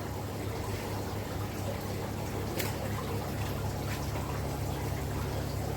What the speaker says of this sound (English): Get some more water in here.